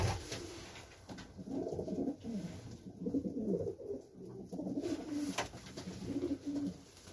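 Racing pigeons from a flying team loft, including marathon cocks, cooing in soft, repeated rolling coos that overlap almost continuously at close range, without any talking.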